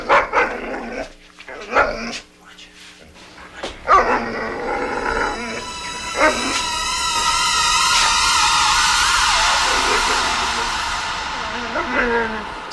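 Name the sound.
dog barking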